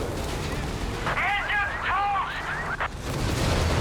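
Anti-aircraft flak fire in the strategy game Company of Heroes 3 sounds as a steady roar of distant battle with repeated bursts, while warbling voice-like calls rise and fall across the middle.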